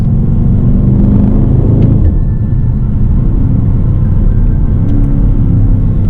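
A loud, steady engine rumble from a 2020 BMW X5 M Competition SUV downshifting, with a low, continuous drone and a brief shift in tone partway through; no voices.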